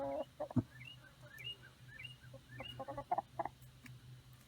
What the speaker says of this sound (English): Chickens are pretty interested in what I'm doing.